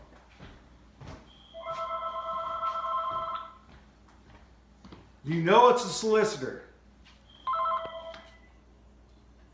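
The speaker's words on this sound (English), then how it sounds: "Hang on, I'm going to grab that phone." A telephone rings in two bursts of repeated electronic trills, loud and close, with someone speaking briefly between the rings.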